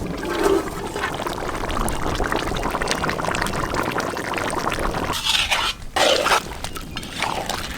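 Water pours and splashes into a pot of peanut mutton curry for several seconds, with a brief gurgling pause near the end before it continues.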